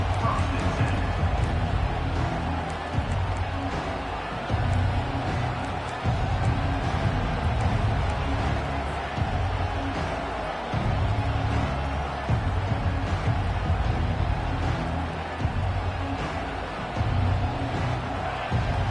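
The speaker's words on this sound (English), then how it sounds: "This crowd, full throat, splitting the eardrums" A stadium crowd roars continuously at a Wisconsin versus Clemson college football game, a dense, loud, steady wash of cheering that never lets up.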